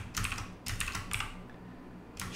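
Keys clatter on a computer keyboard in three short bursts of rapid clicks, close and moderately loud, with a quiet gap before a final burst.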